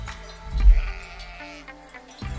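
A sheep bleats once in a New Zealand pasture, a wavering mid-distance call that rises and fades against a quiet background with a soft low rumble.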